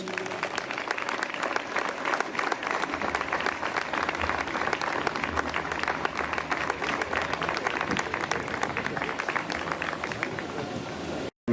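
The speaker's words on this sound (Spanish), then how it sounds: "recibamos con un fuerte aplauso a Juan Eslava Galán" At the Cuenca Lee 2022 book fair, an audience gives sustained applause to welcome the town crier speaker Juan Eslava Galán, a continuous even clapping that holds steady for about eleven seconds before cutting off abruptly.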